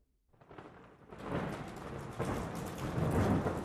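Steady heavy rain builds in after a brief silence, with a low rumble of thunder swelling beneath the downpour; no voices.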